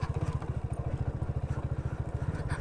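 A motorcycle engine idles close by in an open field, its low exhaust pulsing in a fast, even throb with a slight rattle on top.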